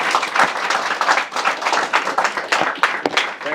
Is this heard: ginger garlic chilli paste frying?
no